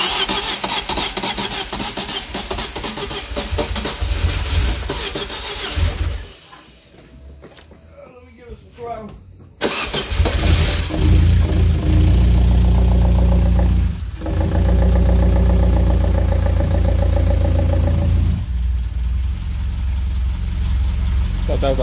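A car engine with an exhaust leak runs loudly at a rough idle, drops out briefly, then starts again and keeps idling.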